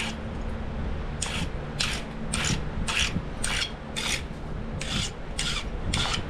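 Rhythmic rasping strokes of a flint knapping pressure flaker being sharpened, about ten evenly spaced scrapes close up over a steady low hum, with no talking.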